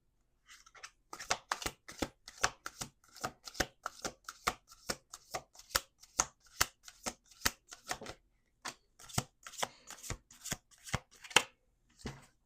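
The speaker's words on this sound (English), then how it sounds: "2 more shuffles" Tarot cards are shuffled by hand in a quiet room, making a long run of crisp riffling bursts in a steady, uneven rhythm, near and distinct, with brief pauses between.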